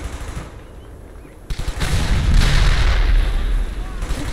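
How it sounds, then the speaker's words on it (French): Heavy WWII gunfire in Brothers in Arms: Hell's Highway, rapid bursts and booming shots building into a dense, loud barrage after a quieter opening, with rumbling low impacts throughout. "Dawson, continuez à tirer."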